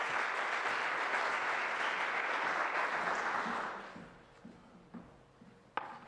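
Audience applause for a speaker at an endowed business lecture, a full steady ovation that fades out after about four seconds into a few scattered claps and quiet room sounds.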